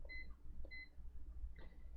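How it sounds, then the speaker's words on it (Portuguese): A multimeter on the continuity setting, testing a relay contact on a Midea air conditioner control board at the bench, gives two short, thin electronic beeps, faint against a low background hum, with no talk. "meu multímetro vai medir isso aqui, ó, um bip"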